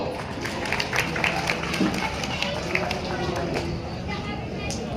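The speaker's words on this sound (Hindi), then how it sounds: "जोरदार जोरदार तालियों से स्वागत करो" Crowd clapping steadily to welcome Madhya Pradesh Chief Minister Dr. Mohan Yadav at a farmers' Kisan Samman Nidhi event, a dense continuous patter with scattered voices mixed in.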